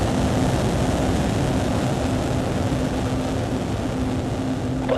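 A SpaceX rocket engine starts up and throttles up, a steady, dense, loud roar with a low rumble that holds without a break and no voices over it.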